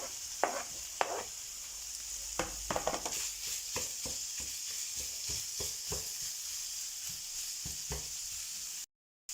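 Minced meat browning with garlic and onion in a hot pan for spaghetti, a steady loud sizzle broken by repeated sharp clacks of stirring and scraping, close up with no talk, cutting off abruptly at the end.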